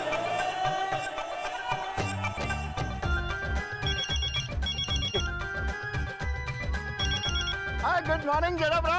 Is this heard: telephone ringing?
yes